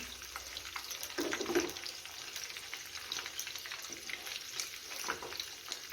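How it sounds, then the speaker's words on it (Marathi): Chicken 65 pieces deep-frying in hot oil, a steady crackling sizzle running the whole time with faint stirring and a few brief water-like splashes, close and moderately loud, no talking. "तेलामध्ये मस्त फ्राय करून घेऊया"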